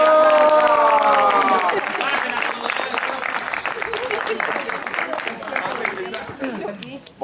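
An audience around a hotel campfire gives loud, dense applause mixed with cheering and crowd chatter, opening with a raised voice and tapering slowly toward the end.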